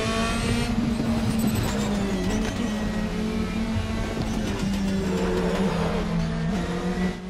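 A race car engine in the Raceroom video game drones steadily as the car pulls out of the pit lane, its pitch holding and shifting slightly, with faint tire noise and other cars' engines behind it.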